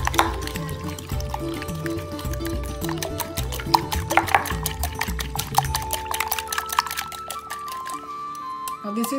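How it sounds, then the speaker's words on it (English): Three eggs are whisked briskly in a bowl, a rapid, steady clatter of the whisk against the side, close and continuous over faint background music. "These are 3 eggs I'm beating. Beat them very well."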